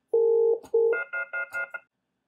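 Telephone keypad DTMF tones cycled through a SLIC module on a landline phone: one long tone, a brief click, a second tone, then four short beeps in quick succession, clean and close.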